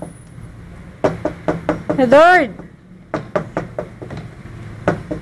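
Knuckles rap on a door in repeated bursts of sharp, close knocks, several quick raps per group, while a voice calls out between them and a brief bird-like whistle rises in the middle.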